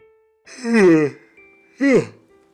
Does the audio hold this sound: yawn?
yes